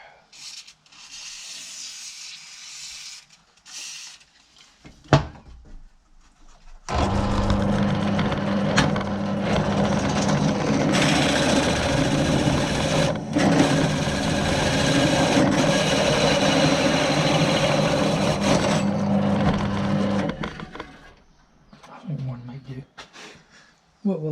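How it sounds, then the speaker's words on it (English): A blunt saw grinds steadily through a Polaris exhaust part for about fourteen seconds, a loud continuous rasping cut that starts after a few quieter knocks and handling sounds and then stops abruptly. "something tells me that saw's going to be that blunt"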